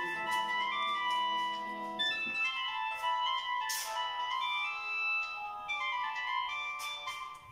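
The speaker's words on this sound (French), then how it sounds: "mon téléphone portable qui sonnait un peu, on m'appelait là." A mobile phone rings with a melodic electronic tone, repeating tonal phrases for several seconds and standing clearly on its own without talk over it.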